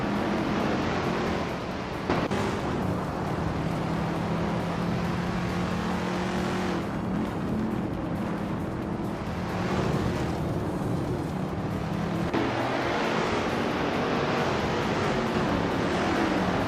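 Race cars in a video game roar past in a steady engine drone that rises and shifts in pitch as they pass, lasting the whole stretch with no voices over it.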